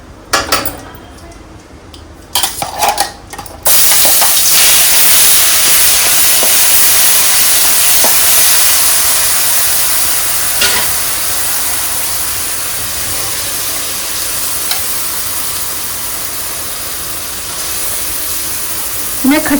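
Masala tipped into a sizzling pan of bitter gourd and stirred, a steady loud hiss and frying crackle running throughout after a few metal clanks and scrapes at the start.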